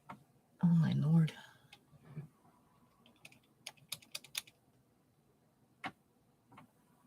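Fast tapping on a computer keyboard comes in short clusters of clicks, with brief pauses between them and a louder thump near the start in a quiet room.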